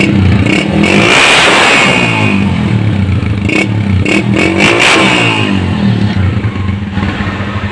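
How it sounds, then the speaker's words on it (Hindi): A 2014 Honda CG 125 motorcycle revs through its exhaust silencer, loud and close, the engine note climbing and falling in repeated throttle blips with a steady idle rumble underneath and no voices. "अब साइलेंसर का भी दोस्तों साउंड चेक करेंगे"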